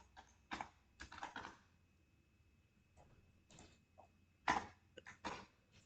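Bursts of keyboard typing while writing code, a few short clusters of clicky keystrokes with quiet gaps between them, close and fairly soft with no talking.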